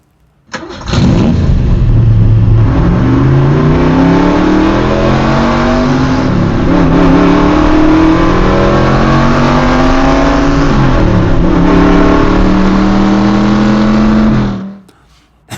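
A 2025 HESS toy stock car plays its engine startup sound: a loud engine cranks and fires up, then revs repeatedly with rising and falling pitch in a sustained V8-style roar before cutting off abruptly.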